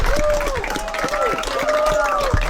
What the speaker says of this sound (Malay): Bagi tepukan Datuk Sabariah.